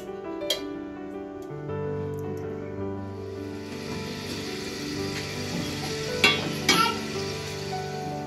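Oil heats in a pressure cooker with a soft sizzle and crackle that builds, broken by a few louder sputtering pops, over a low background hum and no talking.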